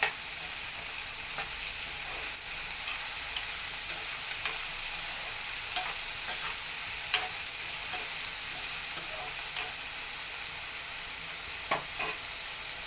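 Continuous sizzling of a salted brinjal and chana dal curry frying in a pan, with soft scrapes and taps from stirring scattered through a steady hiss, close and even, no voices.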